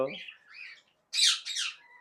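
Two loud, harsh parrot squawks in close succession follow a brief stretch of softer, thinner calls from a pet parrot in a bird farm.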